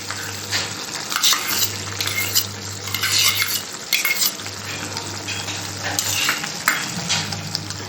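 Methi cooking in a pan with garam masala and cream as it is stirred, busy scraping and clinking over a steady sizzle, close and fairly loud, with a low hum running underneath.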